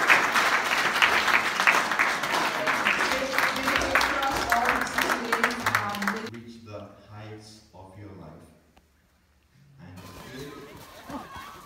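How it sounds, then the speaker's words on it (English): An audience at a youth retreat applauds the parents with dense, loud clapping for about six seconds, then it fades to scattered claps and quiet murmuring before room chatter resumes. "Let's all turn back there and give them a round of applause."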